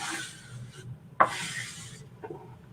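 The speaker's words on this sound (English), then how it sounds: "Now I'm just going to burnish this down." Two bursts of firm rubbing on a wooden faux pallet sign as a chalk stencil is burnished down, separated by a sharp tap, close and dry with silence between strokes.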